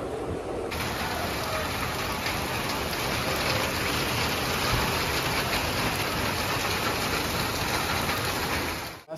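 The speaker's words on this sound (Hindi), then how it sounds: "मस्त बारिश हो रही है" Heavy, sudden rain pours steadily outside, a dense continuous hiss of drops on surfaces lasting throughout with no talking.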